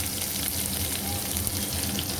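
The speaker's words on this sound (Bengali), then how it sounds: "শুকনো লঙ্কাটা ভাজা হয়ে গেছে, রসুন কুচিটা দিয়ে দিলাম।" Chopped garlic hits hot oil with fried dried chilli and a bay leaf, giving a steady, close, crackling sizzle that stays even throughout, with no voices.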